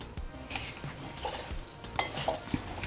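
Semolina (rava) roasting in a pan over medium heat, stirred with a utensil: soft scraping and stirring with occasional light clinks of metal against the pan, steady and close, no voices.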